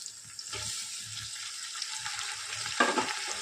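Onions fry in a pan for mutton biryani while tomatoes go in; a soft continuous sizzle with stirring scrapes swells into a louder hiss near the end.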